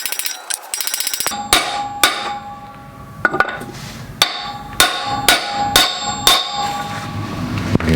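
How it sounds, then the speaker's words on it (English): A motorcycle wheel bearing on a Honda CB500F is driven in with a socket and hammer: about ten sharp, ringing metallic strikes at uneven intervals, loud and close, the pitch shifting as it seats. "You can hear that change in pitch as it bottoms out."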